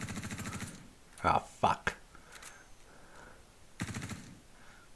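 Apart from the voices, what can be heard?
gunfire in the video game Star Citizen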